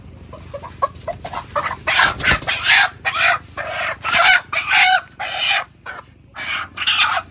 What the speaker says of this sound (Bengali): তো মুরগটা মাত্র ধরে আনা হয়েছে আর কি।